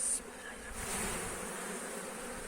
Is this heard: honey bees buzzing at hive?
yes